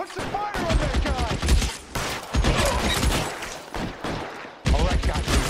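Heavy gunfire in an L.A. Noire shootout, loud and continuous with brief breaks, as shouting voices carry over the shots.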